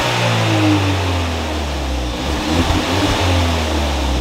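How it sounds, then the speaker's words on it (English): A Hyundai i30 N-Line fitted with an Xforce catback exhaust revs, a loud close engine drone with rising and falling pitch, the engine noise outweighing the exhaust note, with no talk over it. "There's more engine noise than exhaust note, eh?"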